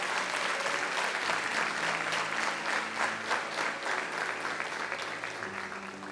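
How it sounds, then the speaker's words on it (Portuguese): A church congregation applauds together, a dense, steady wash of clapping that holds for the whole stretch with faint tones underneath. "Vamos aplaudir ao Senhor."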